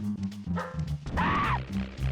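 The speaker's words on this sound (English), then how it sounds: "No, it's a dog." Dog barking in the SNES video game Ren & Stimpy: Time Warp, a few short yapping barks with a whimpering tone, close and clear over retro game music.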